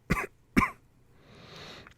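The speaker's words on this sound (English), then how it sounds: "The other coughed," A man gives two sharp, close coughs in quick succession, followed by a soft breathy exhale and a small final click.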